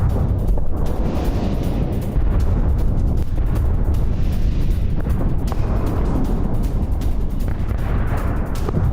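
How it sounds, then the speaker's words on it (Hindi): Heavy gunfire and explosions in Ramallah in the West Bank, captured in news footage, form a dense, loud, continuous roar broken by sharp cracks and thuds throughout, with no speech. "वेस्ट बैंक के रमल्ला में भीषण फायरिंग"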